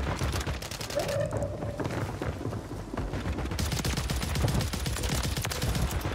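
Rapid bursts of submachine gun fire in Warzone on Rebirth Island, dense, overlapping volleys filling the whole stretch with sharp repeated cracks, close and loud, with a brief lull near the middle.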